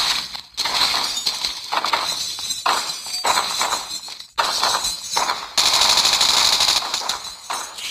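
Rapid automatic gunfire in the zombies mode of Call of Duty Mobile, loud sustained bursts with crunchy, glassy impacts and short breaks between volleys, with no talking.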